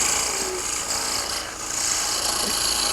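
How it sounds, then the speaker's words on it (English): A sharp skew chisel cuts a straight taper on a spinning wooden salad fork handle on a lathe, giving a steady, close, continuous scraping rasp with a brief dip midway. "Now we'll go to a skew chisel and just bring this to a nice straight taper down through there."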